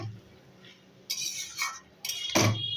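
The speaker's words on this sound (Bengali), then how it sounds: "এখন নাড়িয়ে দেবো কপিটাকে।" Cabbage and potatoes stirred in a cooking pot: a few sharp metallic clinks and scrapes of a spoon against the pot, brief and fairly close over a quiet background.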